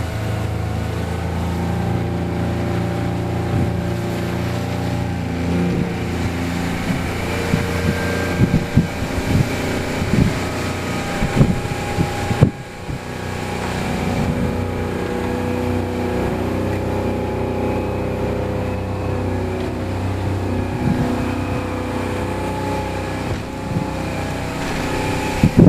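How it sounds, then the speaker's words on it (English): A 1999 Donzi LXC 275 motorboat run at wide open throttle, a loud sustained engine roar with shifting pitch, wind buffeting and water noise over about twenty-five seconds. "We'll do wide open throttle, should crank us in the mid-40s usually."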